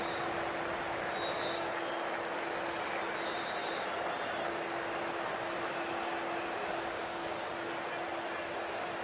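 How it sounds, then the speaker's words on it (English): Stadium crowd in the cricket video game Cricket 24 during an IPL match between Punjab Kings and Mumbai Indians, applauding and cheering as a sustained dense wash of clapping, with faint commentary-like tones beneath. "For the Punjab Kings, please give them a round of applause."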